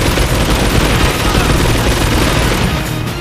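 Sustained, dense war-game gunfire in a World War II church battle, heavy rapid bursts and booming impacts running continuously at loud level for the whole stretch with no talk.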